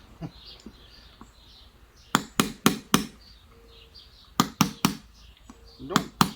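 Hammer taps driving wheel bearings into place, two quick bursts of three or four sharp, close knocks separated by quiet, with faint rustling and a distant bird call between.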